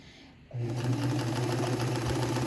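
A Kenmore 158.15160 sewing machine starts up and stitches at its smallest stitch length, a steady, close mechanical whir with a rapid needle rhythm running on after a quiet start.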